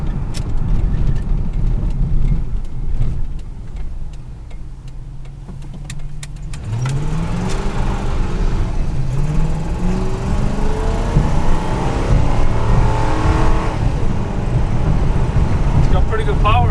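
A 1997 Ford F-150 SuperCab 4x4 pickup with a 4.6-litre V8 accelerates from inside the cab, its engine note rising steadily and loud over road noise, with no talk during the pull.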